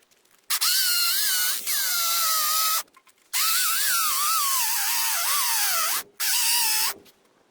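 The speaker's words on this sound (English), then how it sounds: "All right, let's drill." An electric drill bores about 7 to 8 inches deep into a load-bearing wall panel during a house build, whining in several long bursts of a few seconds each with brief pauses between, its pitch wavering as the bit bites, close and alone.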